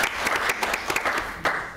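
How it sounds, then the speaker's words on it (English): A short round of applause from the audience at a public council meeting, dense and steady clapping filling the room for about two seconds. "I think we should give a round of applause"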